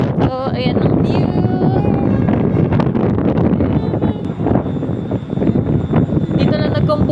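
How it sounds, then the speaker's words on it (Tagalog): Strong, steady wind roaring and buffeting the microphone for the whole stretch, with voices talking underneath, at Ala-Archa in Kyrgyzstan. "Ang hangin dito."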